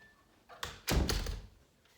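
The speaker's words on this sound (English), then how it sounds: "and then I'm going to close the door" A room door swings shut with a soft scrape followed by a solid thunk, close by and moderately loud, alone without talk.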